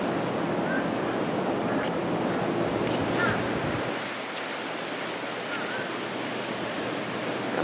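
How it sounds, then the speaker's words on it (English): Atlantic Ocean surf at Atlantic City rolls in a steady broadband wash, buffeted by wind on the microphone, with gulls calling briefly in the distance. "Look at the ocean."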